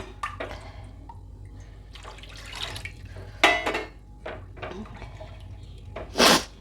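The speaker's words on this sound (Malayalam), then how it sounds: "കുറച്ചും കൂടി ഒരു അര ഗ്ലാസ് വെള്ളം ഒഴിക്കുന്നുണ്ട്" Half a glass of water is poured into a tomato yoghurt curry made without coconut, giving a few splashing, trickling bursts and light clinks of utensils, with the loudest gush near the end and no talk.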